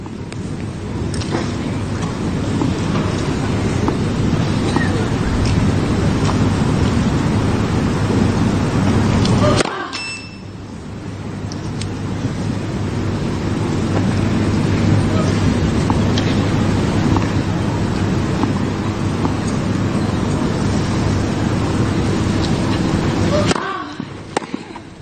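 Steady wind gusting against the microphone at an outdoor tennis match, a continuous low rumbling roar throughout with a brief dip partway, under faint background activity.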